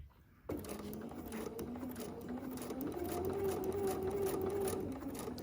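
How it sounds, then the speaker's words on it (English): A sewing machine stitches a quarter-inch seam through a quilt block, running steadily and continuously after a brief quiet start, with a faint rising whine as the pace picks up. "I'm not going to sew over my pin."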